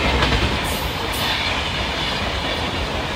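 A train runs steadily on its rails with a loud, dense rumble and roar heard from inside, a faint squeal rising briefly near the start.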